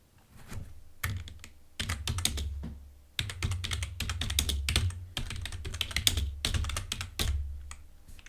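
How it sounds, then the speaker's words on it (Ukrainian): Fingers type rapidly on a computer keyboard, dense bursts of clicking keys separated by short pauses, close and clear with no talk. "Наберемо якийсь фігурний текст, натиснемо на Enter."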